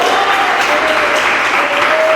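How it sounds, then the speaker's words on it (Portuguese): Strong, sustained clapping from a church congregation, many hands beating together loudly and evenly, with a faint tonal hum underneath and no speech. "Podem bater as palmas bem forte para o Senhor."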